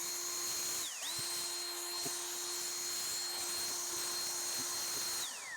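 A small air blower used to clean the condenser of a Hicon HZB ice cube machine, a steady high-pitched whine that briefly dips and recovers, then winds down at the end, with no talking.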